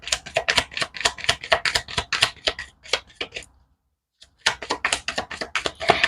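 Tarot cards are shuffled and drawn: a rapid crisp flutter of riffling cards, a brief silent pause, then another fast papery burst, close and clear.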